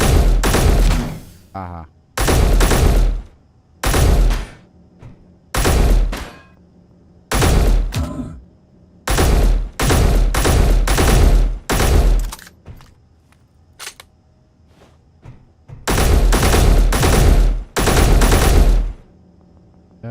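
Video game gunfire comes in loud repeated bursts of rapid shots, each lasting about a second, separated by short gaps, with a brief laugh and quiet talk between volleys.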